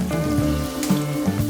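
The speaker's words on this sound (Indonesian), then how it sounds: "Kita tumis bawang putih dan bawang merahnya yang sudah diiris tadi." Sliced garlic and shallots sauté in hot oil in a wok, a steady close sizzle with a few brief louder crackles and no talking.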